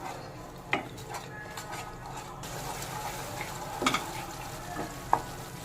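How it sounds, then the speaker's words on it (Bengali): A paste of cumin, coriander and Kashmiri chili powder sizzles and fries in a pan while it is stirred, with a steady close hiss under scattered sharp scrapes and clinks of the spatula, and no talk. "এবার ভালো করে নেড়ে মিশিয়ে নেব, মশলাটা একটু কষে নেব।"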